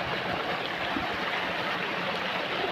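Water current rushing steadily through a farm stream, a dense continuous wash of flowing water, close and even, with no voices.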